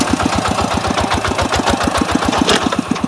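A tractor engine chugs steadily while ploughing a rice field in first gear, a rapid, even low thumping with a rattly mechanical edge, close and continuous with no talk.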